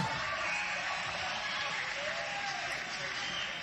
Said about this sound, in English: We got them cheering on the women